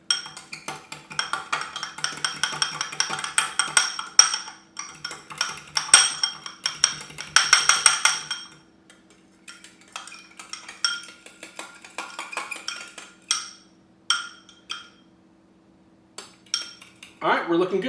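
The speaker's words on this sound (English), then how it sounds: "Then we just mix it together." Spoon clinks and scrapes against a bowl while a spicy sauce with chili powder is stirred together for bang bang shrimp, rapid close clatter in bursts, then sparser taps and a final flurry.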